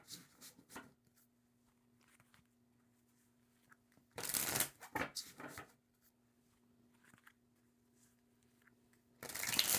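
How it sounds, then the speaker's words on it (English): Tarot cards are shuffled in three short, crisp bursts of riffling, close and clear, separated by near-silence with a faint steady hum underneath. "Let's shuffle that card."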